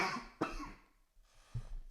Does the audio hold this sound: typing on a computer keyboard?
no